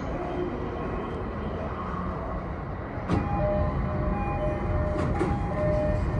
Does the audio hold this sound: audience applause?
no